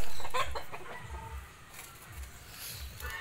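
Domestic Peking ducks call with a few low, nasal quacks close by, over a busy outdoor background.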